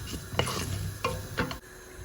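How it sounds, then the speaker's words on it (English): Cumin and black mustard seeds sizzle and crackle in hot oil in a pan, a steady frying hiss broken by a few clinks of a utensil stirring. "a teaspoon of black mustard seeds, and I'm just going to let them sizzle"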